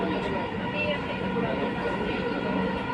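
A Dhaka Metro Rail train running between Uttara Center and Uttara South stations gives a loud, steady rumble and roar that fills the whole stretch without a break.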